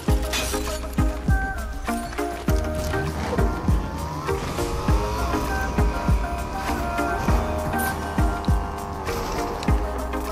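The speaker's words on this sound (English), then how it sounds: "Driving the Kermobile like a crazy person" The Kermobile car in Fortnite driven wildly, with engine drone and repeated tire squeals and skids, plus thumping bumps from rough landings, loud and up close.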